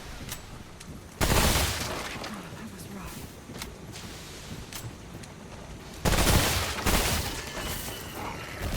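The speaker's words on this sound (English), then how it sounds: "let's swap to the machine gun to get rid of that guy quickly" Bursts of machine gun fire in Remnant: From The Ashes, two heavy volleys separated by scattered single shots and game ambience, loud and close, with speech mixed in.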